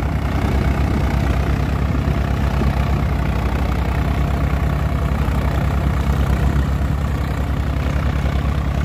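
Engine of a new Swaraj tractor fitted with a U-shaped exhaust pipe, idling steadily in a low, continuous rumble, loud and close throughout with no talk.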